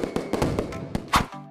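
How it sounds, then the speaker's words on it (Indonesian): Several sharp firework bangs crack in an irregular sequence, with one louder, bright burst near the end, followed by a low hum. "ledakan kembang api"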